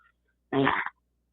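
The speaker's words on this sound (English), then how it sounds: "Was that a fart too?" A single short, buzzy fart, about half a second long, in an otherwise quiet moment.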